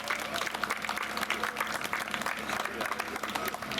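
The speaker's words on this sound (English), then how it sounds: "Let's give that a big applause." An outdoor crowd at a new park's grand opening claps steadily for several seconds, a bright, sustained patter of many hands with some voices underneath.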